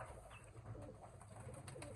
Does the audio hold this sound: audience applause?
no